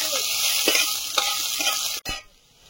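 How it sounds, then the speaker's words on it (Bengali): Whole cumin seeds and garlic hit hot oil in a wok and sizzle hard, a loud crackling hiss broken by a few stirring scrapes before it suddenly drops away near the end. "গোটা জিরে তেলে দিয়ে দিচ্ছি"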